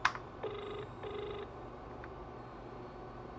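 A telephone keypad in a home kitchen sounds two short electronic dial tones in quick succession, each about half a second long, clear and close in a quiet room.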